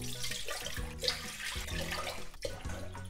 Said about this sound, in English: I'm gonna put 4 cups of water.